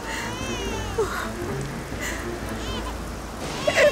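Steady heavy rain patters close by at night. Faint voices and cries call out intermittently over the downpour.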